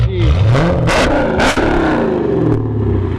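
A cammed Hemi engine with a Borla ATAK exhaust revs hard in several sharp bursts over a steady, deep exhaust rumble, close by.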